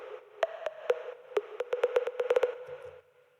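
A synth pluck preset plays an EDM house lead melody as a run of short, bright, evenly spaced plucked notes that quicken toward the end and then stop, heard alone.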